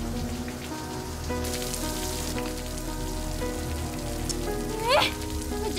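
Steady rain falls throughout, a continuous hiss of drops hitting a surface, moderately loud and constant, with a faint brief chirp near the end and no clear talking.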